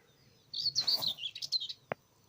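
Whitethroat singing a short, scratchy song burst lasting just over a second, close and fairly clear over a quiet background, ending with a brief sharp click.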